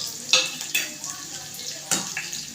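Onion, asafoetida and curry leaves fry in hot oil for a tempering, with a soft steady sizzle broken by a few sharp scraping stirs of a spoon against the pan, close and clear.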